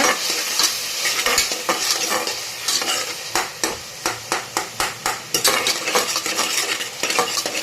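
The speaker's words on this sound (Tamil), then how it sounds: "கொஞ்சம் பெருங்காயம் போட்டுக்கோங்க நல்லா மிக்ஸ் பண்ணி விடுங்க" A spoon scrapes and stirs steadily through tomatoes frying in a pan as turmeric and asafoetida go in, with a continuous sizzle under rhythmic metallic taps on the pan.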